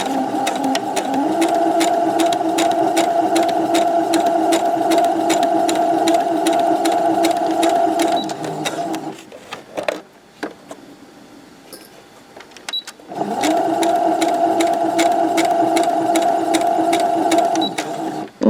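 A sewing machine runs steadily, stitching a seam along piping on a fabric pouch; it pauses briefly about halfway, then resumes its continuous mechanical whir close by to the end.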